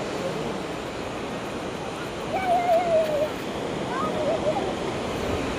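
Thoseghar waterfall pours in a steady, broad rushing roar heard from a distance and fairly constant throughout, with a faint thin whistle-like tone briefly riding above it midway.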